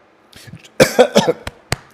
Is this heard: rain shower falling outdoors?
no